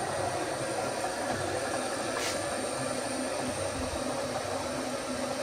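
A milling machine slotter head running steadily, a continuous mechanical hum and rumble with a brief higher whir partway through, moderate and close, no talk.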